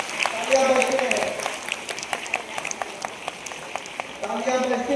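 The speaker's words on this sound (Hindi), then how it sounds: "तालियां बजती रहे, तालियों में कमी नहीं होनी चाहिए।" Applause from an audience at a school celebration program for people with disabilities, a steady mass of clapping spread through the crowd, with a voice speaking loudly over it at the start and near the end.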